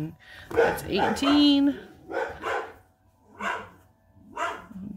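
Dogs barking outside in several separate bursts spaced about a second apart, moderately loud, with a person talking over the first bark.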